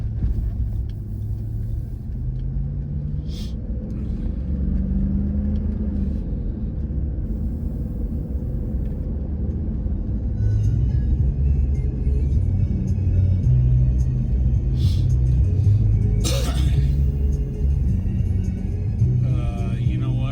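A vehicle fitted with a new Iron Rock Off Road dual steering stabilizer drives along with a continuous low engine and road rumble from inside the cab, joined by a few brief clicks and rattles.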